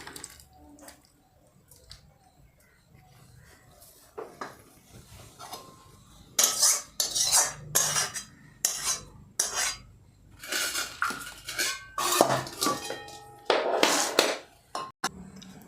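Cooked mustard curry with lentil dumplings being scooped from a pot into a bowl: faint rustling at first, then a close series of sharp spoon and metal scrapes and clinks in irregular bursts.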